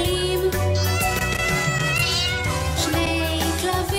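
Second-grade children imitate cats with drawn-out meows over a loud, steady musical backing at a school performance, the voices blending into the song.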